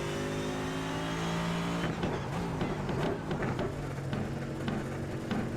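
Race car engine in the iRacing sim at Circuit de Barcelona-Catalunya, held at a steady drone, then shifting and lifting through a corner with a rough, fluctuating note, loud and alone throughout.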